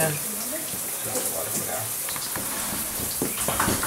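Water runs steadily in a broadband hiss, with occasional muffled voices talking over it nearby.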